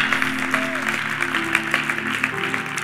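A church congregation clapping and cheering during a sermon, a dense continuous wash of applause with a sustained organ or keyboard chord underneath.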